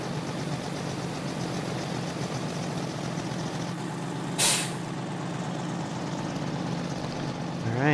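Truck starting to move on a farm beside a corn bin and auger: a steady diesel rumble, one sharp air-brake hiss midway, and a second release of air at the end.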